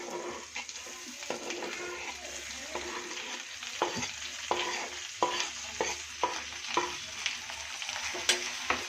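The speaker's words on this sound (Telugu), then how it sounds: "ఇలా అన్నీ వేసుకొని బాగా మిక్స్ చేసుకోవాలి బాగా వేగాక టమోటా వేసుకోవాలి" Tomato being fried and stirred in a pan, with a steady sizzle and repeated scraping strokes of a spoon that grow more frequent toward the end, close and fairly quiet, no talk.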